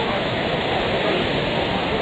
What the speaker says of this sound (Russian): Вулкан проснулся, прям в море.